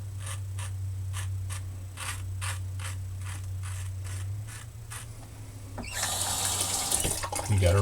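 Tap water runs into a sink while a razor is rinsed off, a steady hiss under a low hum, swelling into a louder, fuller splash near the end.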